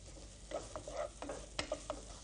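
Garlic sautéing in hot oil in a pan, a soft, quiet sizzle with scattered light pops and stirring scrapes.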